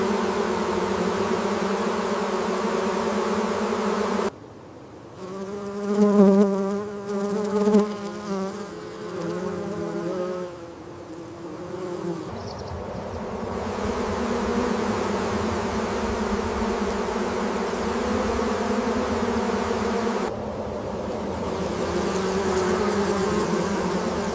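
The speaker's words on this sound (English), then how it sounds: "The birds employ a variety of tactics to capture as many bees as possible." Bees swarming in Sonoran desert country among saguaros while birds such as the Gila woodpecker hunt them, a dense, continuous buzzing drone that stays steady for a long stretch, with brief shifts in pitch as insects pass close.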